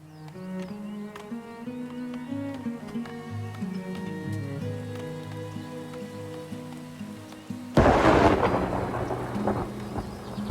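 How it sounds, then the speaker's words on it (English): Rain with a loud thunder clap in the village-building game Farthest Frontier: steady rainfall at first, then a sudden sharp crack about three-quarters through that rolls into a sustained rumble over the rain. "That was a loud bit of thunder right there"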